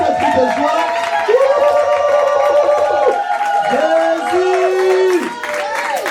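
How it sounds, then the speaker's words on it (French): A church congregation applauds and cheers, with loud sustained voices shouting and calling out over a steady wash of clapping hands in a reverberant hall. "Est-ce qu'on peut applaudir le Seigneur vraiment comme s'il était Dieu"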